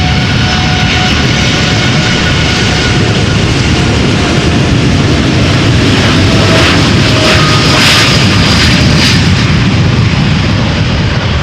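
A TUI Boeing 787-8 Dreamliner at Amsterdam Schiphol produces a loud, sustained jet engine roar with a thick broadband rumble that swells slightly partway through, with no voices.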